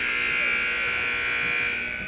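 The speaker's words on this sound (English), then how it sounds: "and the buzzer sounds" A loud, sustained end-of-period buzzer blares continuously for about two seconds at a hockey game, steady and harsh, over faint crowd noise, tapering slightly at the end.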